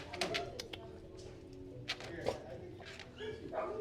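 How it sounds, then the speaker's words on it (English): Several dogs bark in the distance in short, scattered yelps around a dog being kennel trained, with a person speaking softly nearby. "We got a bunch of barking dogs right now"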